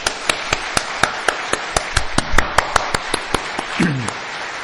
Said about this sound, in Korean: 우리 감사의 박수 한번 더 하겠습니다